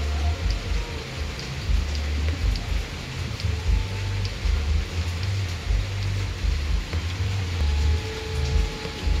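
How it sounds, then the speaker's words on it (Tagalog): Heavy rain pours steadily as a dense, continuous hiss close by, with a low rumbling hum underneath while barbecued pork chops cook in an electric pan. "Grabe lakas ng ulan."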